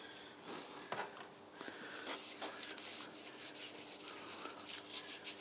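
An engine block being sanded with 400-grit abrasive paper taped to glass and sprayed with WD-40: a continuous close scratching rub in long back-and-forth strokes, steady and even throughout.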